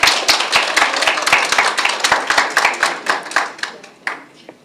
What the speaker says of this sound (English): I was waiting for the applause to end